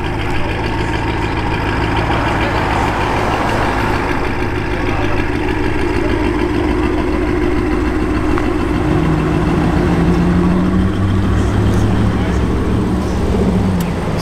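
A Porsche 991.1 GT3 RS engine idles steadily and loudly for the whole stretch, a low rumbling drone with people talking over it.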